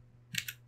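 A few quick, faint keystrokes on a computer keyboard as a command is entered, short clicks in a small burst.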